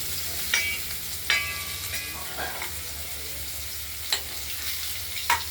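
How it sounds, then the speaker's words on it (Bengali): Cut potatoes fry in hot oil with spices, a steady close sizzle broken by a few louder clatters and scrapes as they are stirred in the pan. "আলুগুলোকে আমরা ভেজে নেব।"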